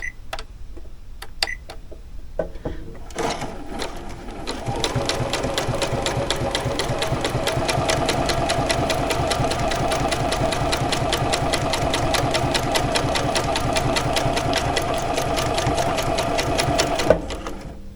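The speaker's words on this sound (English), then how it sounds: "Let's see if we can just sew a straight stitch" A new sewing machine runs a straight stitch in a long, steady, loud run of rapid mechanical ticking and whirring that lasts about fourteen seconds, preceded by a few clicks from its start-stop button and ending with a sharp click.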